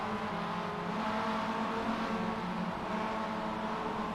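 Mazda MX-5 race cars in an MX5 Cup race drone steadily on track, a continuous, moderately loud engine roar with no distinct single pass and no voices.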